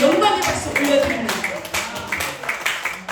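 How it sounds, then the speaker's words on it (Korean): Congregation clapping in a church, a burst of irregular hand claps over a few seconds, with a voice speaking over them. "주님께 영광의 박수 올려드립니다."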